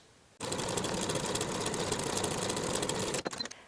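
A sewing machine runs steadily, edge stitching along the top folded edge of a weekender bag, a continuous close mechanical whir lasting about three seconds before stopping with a few short bursts.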